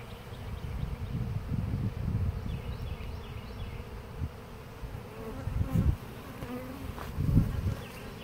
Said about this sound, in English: A lot of bees flying around right at the moment.